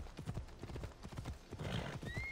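Horse hooves clip-clop in a steady rhythm in Assassin's Creed Odyssey on PS4, close and fairly loud, with a brief whinny near the end and no talk over them.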